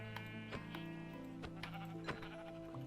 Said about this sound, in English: We're going to punch some sheep until we've got 3 wool.